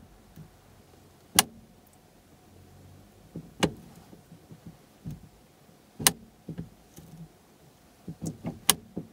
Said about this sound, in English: I'm going to let the handbrake click as I pull it up